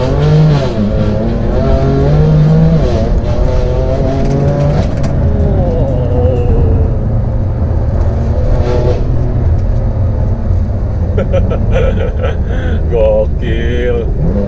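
A modified stage 2 BMW M2 Competition accelerates hard from first gear with traction control on, its engine note climbing and dropping through each gear change, loud and close throughout.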